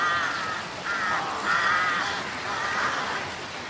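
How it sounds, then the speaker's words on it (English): Carrion crows cawing near a bridge in the countryside, several harsh, drawn-out calls repeating in an uneven rhythm, fairly close and loud over a steady outdoor background. "Carrion crows. They've earned their name."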